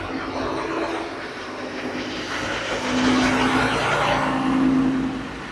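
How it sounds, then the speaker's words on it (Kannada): A heavy Volvo bus engine idles and revs steadily throughout, a low rumble with a droning hum that swells louder partway through. "ಇದರ ಇಂಜಿನ್ ಸೌಂಡ್ ನಾನು ನಿಮಗೆ ನಾನು ತೋರಿಸ್ತೇನೆ"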